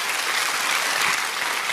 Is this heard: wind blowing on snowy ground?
no